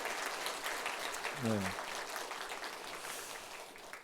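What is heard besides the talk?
church congregation applauding the choir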